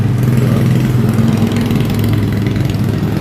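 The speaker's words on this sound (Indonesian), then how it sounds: "Untuk mengolah tanam itu ya hand traktor roda 2." A two-wheel hand tractor engine runs close by at a steady, loud idle-like chug, continuous and alone, used for working rice paddies.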